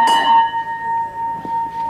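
A single bell rings once at the start of the fourth race at an Argentine harness trotting track, sounding a sharp clang that leaves a steady ringing tone fading over two seconds.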